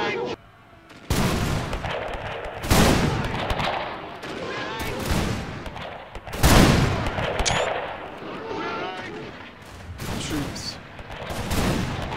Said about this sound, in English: are opening fire for the last stand of the British force at Isandlwana